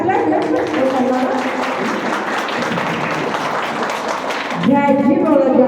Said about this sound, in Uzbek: Qarsaklar